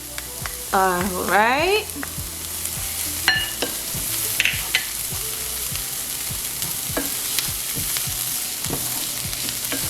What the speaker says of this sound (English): now I'm adding the garlic